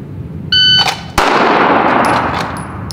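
Sharp pistol gunshot following a timed draw on a shot timer: a timer beep, then a single loud close crack with a long echoing tail, and faint later chimes from steel or the timer.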